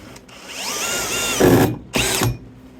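A power drill drives screws into a wooden tree swallow nest box, its motor whining up in pitch and then running in two short loud bursts as the screws bite into the wood.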